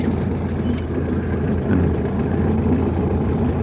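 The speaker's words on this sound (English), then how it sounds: "Sorry about the soundtrack of the outboard." Steady low drone of a boat's outboard motor running continuously while cruising near Blue Mine Island toward Ship Cove, loud and close, with a brief spoken word over it.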